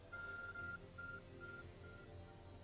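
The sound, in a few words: phone beeping in a video game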